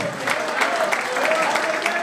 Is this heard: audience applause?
yes